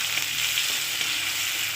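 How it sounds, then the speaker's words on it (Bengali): Chilli, tomato, salt and turmeric fry in a pan for a hilsa dish, giving a dense, even hiss of sizzling oil that stays loud and unbroken through the short stretch, with no speech. "একটু এটা ভেজে নেব।"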